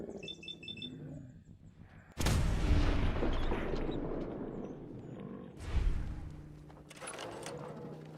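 Two heavy gunshot blasts ring out in Fallout 4, each followed by a long rumbling decay. Bird chirps can be heard in the quiet before the first shot.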